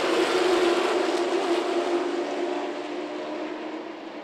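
Late model stock race cars roar together at full throttle as green flag racing begins, a loud dense engine drone that slowly fades as the pack moves away.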